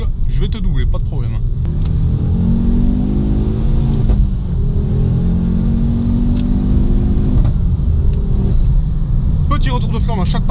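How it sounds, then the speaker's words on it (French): A Ford Focus RS MK2 accelerates hard through the gears with a deep rumbling engine note, and brief pops of backfire come at the gear shifts, loud and steady throughout. "Petit retour de flamme à chaque passage de rapport"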